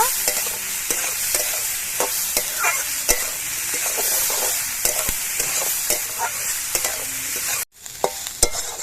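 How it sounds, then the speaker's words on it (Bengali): Winter vegetables stir-fried in a pan for Maggi noodles give a steady, close sizzle with repeated sharp clicks of a spatula scraping and tapping, briefly cut off near the end. "এবার সবজিগুলো একটু ভাজা ভাজা করে নেব।"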